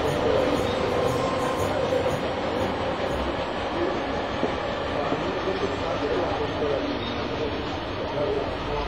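Steam locomotive 625 100 running in Franciacorta, heard as a steady rolling rumble of the train that holds throughout, with talk over it.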